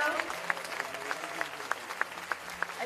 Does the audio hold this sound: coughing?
no